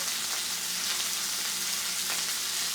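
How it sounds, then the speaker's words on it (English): Steady, fairly quiet sizzling and crackling of salmon frying in a hot pan, continuous and close, with no talking. "as you can hear, our salmon's going pretty strong"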